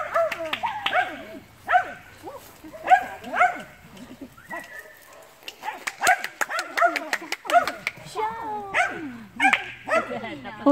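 A young dog yaps and barks in rapid, excited bursts with high whimpery yips, close by, while people talk intermittently.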